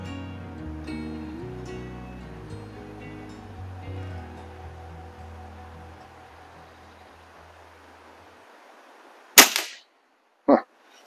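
An underlever air rifle fires one sharp, crisp crack, followed about a second later by a second short snap, after a stretch of fading tonal background noise.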